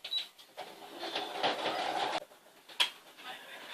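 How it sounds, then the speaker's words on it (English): A sewing machine stitches a fabric shoe bag, its mechanical needle running steadily for about a second and a half before stopping, with a few faint clicks before and after the run. "Now what I'm going to do is I'm going to sew this on this side"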